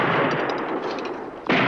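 Gunshots ring out in the 1964 western A Fistful of Dollars as a man shoots at armor, a loud burst of reverberant shots ending in one sharp blast, no talk.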